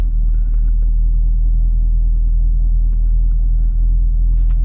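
Chevrolet Camaro 1SS, a sixth-generation model fitted with a triple-disc clutch, set to competitive sport mode. Its engine gives a steady, deep, loud idle rumble that stays constant throughout, with no voices.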